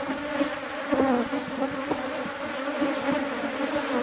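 Disturbed honey bees buzz densely around an opened hive frame holding nectar and pollen, a loud, close, continuous drone with wavering pitch.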